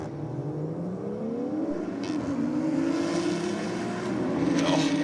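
A race car's engine holds a sustained high-speed drone at around 156 mph, its pitch rising and shifting as it pulls hard at the top end, fairly close and without talk.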